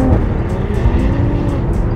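A BMW 1M E82 sports car's engine revs hard under acceleration in third gear, a loud, steady, continuous roar heard close up from inside the car, with no talk.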